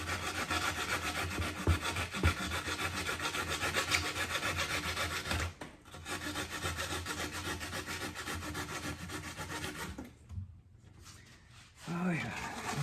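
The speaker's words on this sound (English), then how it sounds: "My blade angled when I was cutting it." A hand saw cuts through the wall of an electric kiln, near and steady with continuous scraping strokes, a short break, and people talking in the background.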